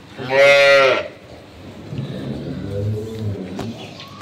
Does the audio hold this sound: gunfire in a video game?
no